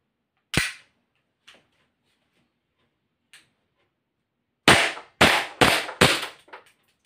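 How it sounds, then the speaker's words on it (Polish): SRC USP gas airsoft pistol fired in sharp cracking shots: one, two isolated pops, then a rapid burst of four loud close shots near the end, quiet between. "Teraz sobie szybko postrzelamy."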